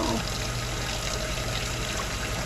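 Fresh, cool water pours steadily into a container for bottle feeding and yogurt making, a continuous close trickle and splash with a low hum underneath and no talk.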